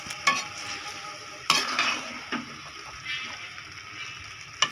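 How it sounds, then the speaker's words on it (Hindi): Boiled chickpeas fry in a pan for chana pulao, with a steady close sizzle broken by several sharp scrapes and knocks of a spoon stirring against the pan, and no voices. "इसको थोड़ी देर आपने फ्राई करना है। चने अच्छे तरीके से आपने पका लेने हैं।"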